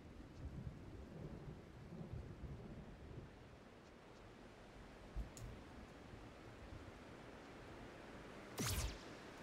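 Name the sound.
thunder during lightning storm in video game Tunic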